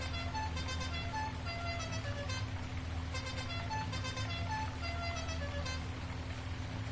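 A truck horn in Farming Simulator 19 sounds in repeated short toots over a steady low engine hum. It is faint and distant throughout, with no talking.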